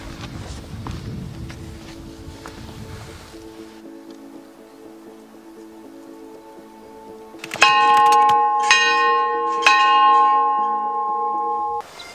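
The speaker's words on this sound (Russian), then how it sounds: "Ударим в колокол на мемориале погибшим в горах" Memorial bell for those who died in the mountains, near the Tuyuksu alpine camp above Chimbulak, is struck three times. Each clang is loud, close and ringing, following a quiet stretch of outdoor ambience.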